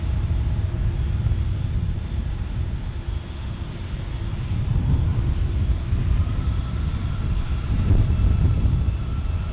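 A Boeing 767 airliner passes at San Diego airport, a loud continuous low engine roar that swells gradually, mixed with gusty wind buffeting the microphone and no speech.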